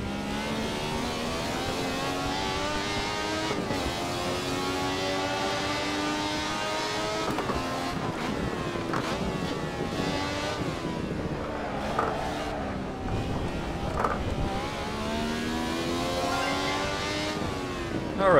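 A race car engine in the video game Assetto Corsa holds a loud, steady drone throughout, with gear-shift steps and rising and falling revs as the car is driven.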